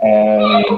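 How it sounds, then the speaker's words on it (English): A pet dog whimpers in a home office during a remote interview, giving one close, loud, drawn-out whine with a brief break near the end, while a person says a single word. "sorry, that's my dog."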